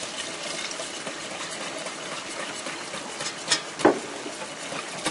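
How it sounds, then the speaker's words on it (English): Cold milk being poured into a roux in a cooking pan, a steady close liquid wash with a brief louder splash near the end, no voices. "now I'm going to add in 1 cup of milk"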